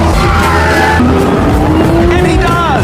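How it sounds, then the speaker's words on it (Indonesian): A Porsche race car driven flat out during a race, a loud, continuous engine roar with rising and falling tones as it shifts and sweeps through corners, near and dominating throughout. "Sonny terus memacu mobilnya dengan kecepatan tinggi"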